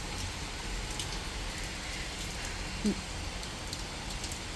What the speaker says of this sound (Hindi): देखो इतनी तेज़ बारिश आ गई, ये देखो इतनी तेज़ बारिश आ गई